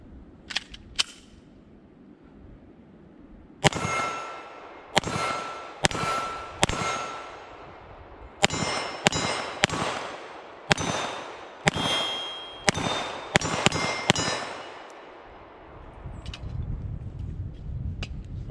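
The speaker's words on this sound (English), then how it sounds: "let's take our first shots with the PDP Pro," Walther PDP Pro 9mm pistol fired at steel targets, a dozen or so crisp shots in an uneven rhythm, each followed by a bright metallic ring from the struck steel, with faint hits audible at a distance.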